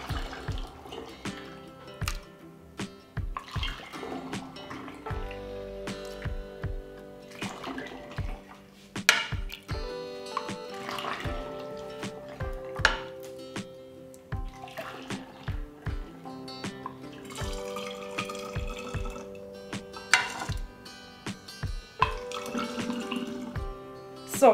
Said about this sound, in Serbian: Sok sam sipala u flaše